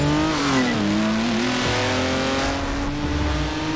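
A Mercedes V8 engine revving in the Forza Street racing game, a loud, close engine note that climbs and dips through rising and falling revs with no talk over it.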